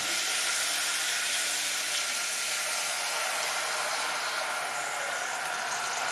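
Wild asparagus sizzling loudly in a pan as a shot of white wine goes in, a steady broadband hiss filling the whole stretch without pause and no talking.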